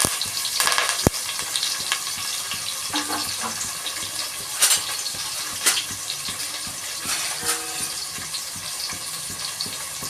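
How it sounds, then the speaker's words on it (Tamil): Onions and curry leaves sautéing in oil for a South Indian fish curry, a steady close sizzle broken by stirring scrapes and a few sharp knocks of a spoon against the pan. "இந்த அளவுக்கு வெங்காயம் வதக்கணும்"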